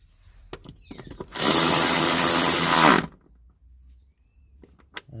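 A power tool drives two 10 mm nuts onto the fuel filter clamp of a BMW 730d during a service, giving one loud, steady whirring burst of about two seconds amid quiet workshop sounds.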